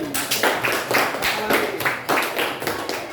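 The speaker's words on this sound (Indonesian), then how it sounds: "tepuk tangan buat Pani." Students in a classroom career-guidance session in Sampit clap their hands together in a steady rhythm, roughly two claps per second, close and moderately loud throughout.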